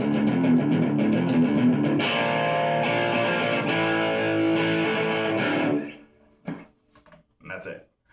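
Distorted electric guitar playing the B section of a song, rhythmic chugging chords for about six seconds, loud and close, then stopping before brief talk.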